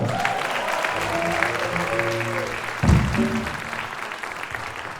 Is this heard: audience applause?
yes